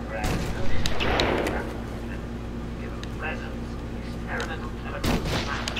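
Sniper gunfire in Batman: Arkham Asylum, a few sharp cracks standing out against a constant low game hum, with a louder burst near the end.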